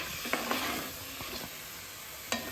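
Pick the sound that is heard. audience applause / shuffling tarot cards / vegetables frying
vegetables frying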